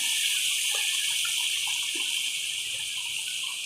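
Water poured for semolina kesari, a steady bright hiss of running water filling a vessel, close and continuous for a few seconds with no talk.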